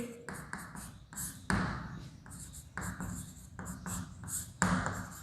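Chalk or pen strokes writing out an equation during a Class 9 maths lesson on rational and irrational numbers, heard as a steady run of short, close taps and scratches in bursts, with no talking.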